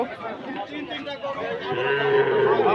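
Cattle lowing at a village livestock market held for Eid sacrifice animals, a drawn-out moo rising near the end over a steady din of crowd chatter and voices talking close by.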